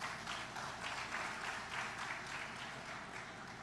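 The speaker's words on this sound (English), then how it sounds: "Another round of applause, please" Faint, distant audience applause fills a hall at the opening ceremony of a Caribbean broadcasting annual general assembly, a steady wash of many hands sustained throughout.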